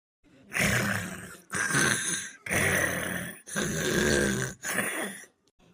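A person snores loudly in five long, rasping breaths, each a heavy drawn-out rumble separated by short silent gaps, close and alone.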